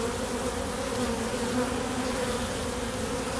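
Honeybees buzz steadily at a hive fitted with a Snelgrove board, a dense, continuous close drone with no voices.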